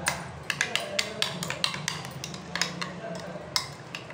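Roasted cumin and red chili powder stirred into yogurt in a bowl, a run of rapid light clicks and taps of a spoon against the dish, fairly close and rhythmic.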